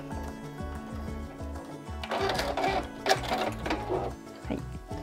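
A sewing machine stitches a seam on a caramel-shaped fabric pouch, its steady rapid needle clatter running close and continuous over light background music.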